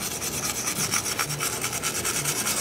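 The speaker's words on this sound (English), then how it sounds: "I'm just going to scrub the contacts until they're nice and shiny" A brush scrubs green corrosion off the contacts of a Rain Bird ESP-6TM sprinkler controller circuit board, giving a steady close rasping rub with quick back-and-forth strokes and no talk.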